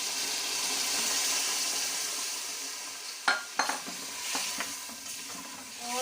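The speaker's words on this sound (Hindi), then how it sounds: "हमारे पाए भूनते हुए 2 मिनट हो चुके हैं।" Mutton paaye fry in spices in a pot with a steady, bright sizzle, while several sharp scrapes and clinks of a spoon stirring against the pot break in near the end.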